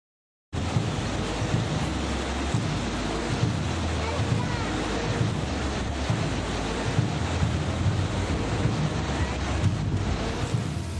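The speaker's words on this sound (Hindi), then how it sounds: "मूसलाधार बारिश की वजह से रेगिस्तान में जल प्रलय मचा हुआ है।" Torrential rain floodwater in a desert region rushes in a dense, steady roar, loud and continuous like surf, with wind buffeting the microphone throughout.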